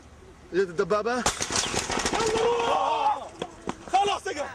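Repeated gunfire from soldiers firing at a Palestinian cameraman, a burst of sharp, loud cracks in rapid succession mixed with shouting voices and commotion.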